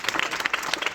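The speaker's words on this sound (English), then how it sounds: "I would also like you to applaud" An audience claps at a book launch event, with a dense, steady patter of hands filling the short moment.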